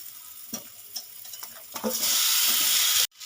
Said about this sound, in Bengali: এবার আমি দিয়ে দেবো ম্যারিনেট করা চিকেন